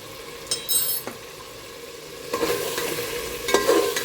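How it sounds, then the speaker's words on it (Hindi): Mutton pieces frying with yogurt and spices for white mutton pulao, with bursts of sizzling and spoon scraping against the pot in separate close stirring strokes. "इसको भून लेते हैं।"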